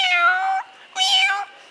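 A human voice imitates a cat on stage at a college annual day event, giving two drawn-out, whiny meows separated by a short pause, clear and close.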